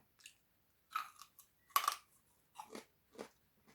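Someone bites and chews homemade crispy pork, sharp crunchy bites followed by several softer crackling chews spaced irregularly, close to the mic in an otherwise quiet setting.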